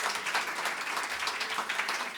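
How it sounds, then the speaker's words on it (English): Audience at a live bluegrass concert in Evanston, Illinois claps in a brief, dense burst of applause, close and steady without voices. "we appreciate your hand applause"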